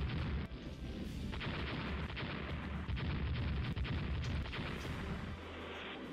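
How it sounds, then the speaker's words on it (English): A torpedo strikes an enemy ship in the naval game Rule The Waves, heard as continuous heavy booming and gunfire-like bursts layered into a dense, loud battle rumble, with no voices. "Enemy ship Jarvis hit by a torpedo."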